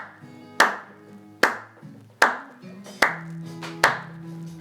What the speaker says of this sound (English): If I start trying to clap along to this